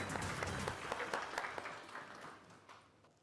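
Audience applause, a dense burst of clapping that starts strong and gradually tapers off over a few seconds, with no talking.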